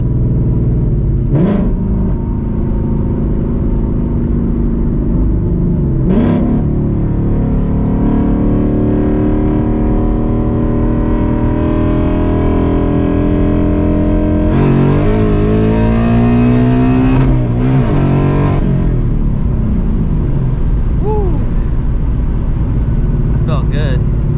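A car on a test hit as the engine revs and accelerates, a steady loud rumble with rising pitch sweeps near the middle. Talk runs over it throughout.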